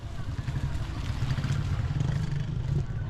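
A motorcycle engine idling or running nearby in a town near the Kenya–Tanzania border, a steady low rumble with slight rattling throughout.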